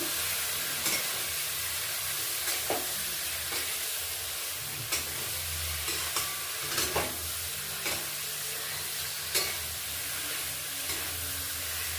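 Spiced lobster curry sizzling in a pan while it is stirred and fried, giving a continuous soft frying hiss broken by occasional scraping strokes, moderately quiet, with no talking.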